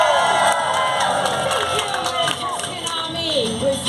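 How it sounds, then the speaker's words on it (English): A live crowd at a Wars of the Roses show at Warwick Castle cheers for the warrior queen, with whoops, shouts and children's voices rising in a loud, sustained roar. Some clapping is mixed in. "A cheer for our warrior queen."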